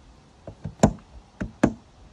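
A handful of quick, hard clicks and knocks from motorhome door catches being pushed in, spaced irregularly, close by in an otherwise quiet space.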